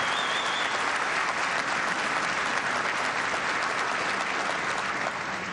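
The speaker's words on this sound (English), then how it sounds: "Please give your outstanding team a big round of applause." Steady, dense applause from a large crowd of troops in Afghanistan, loud and sustained throughout without pause.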